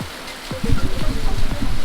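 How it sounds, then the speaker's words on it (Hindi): Heavy rain pours steadily over a hill-town view near Mussoorie, with a dense broadband hiss throughout. Under the rain sit low, murmuring voices that could be distant talk, and the whole scene sounds close and continuous. "अब बहुत तेज़ बारिश हो रही है"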